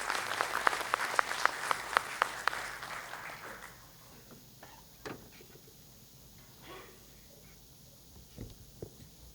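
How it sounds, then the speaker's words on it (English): A small audience at a university panel discussion claps for a few seconds, with distinct sharp claps standing out, before the applause fades into scattered taps and room noise. "May I have a big round of applause, everybody?"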